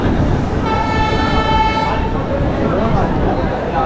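A train horn sounds at Gaya Junction railway station, a steady tonal blast lasting about two seconds over loud crowd and platform noise.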